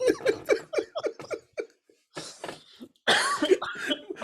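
A person coughs repeatedly in short bursts, then clears the throat with a few heavier coughs, close to the listener with no other sound around.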